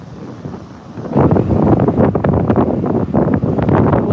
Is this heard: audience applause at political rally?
no